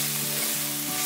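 Spices including coriander powder and asafoetida are stirred into hot oil in a pan over a low flame for namkeen seviyan, producing a brief, dense, steady sizzle close by.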